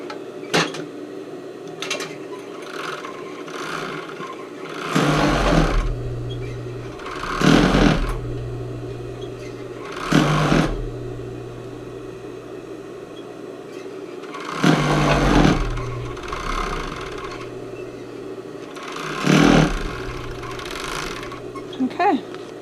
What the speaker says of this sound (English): I'm going to overlock the bottom.